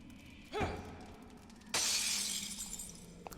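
Objects shatter on impact in the video game Underworld Ascendant, a brief thud with a ringing tone followed by a loud, bright glassy smash whose debris tinkles away, heard close with no talk.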